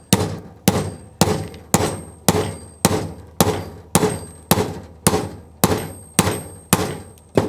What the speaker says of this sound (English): we'll take our big purple hammer, we'll call this Grimace, and we're just going to hit it in